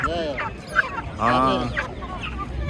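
Chickens cluck and squawk close by at a poultry and livestock market in Kyzylorda, with a rooster's harsh call rising in the middle, several birds overlapping in a busy, noisy space.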